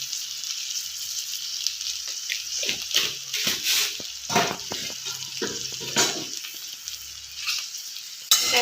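Curry for stuffed idli sambar stirred in a pan, a steady close sizzle with repeated scraping strokes of the spoon against the metal, ending in a sharper knock.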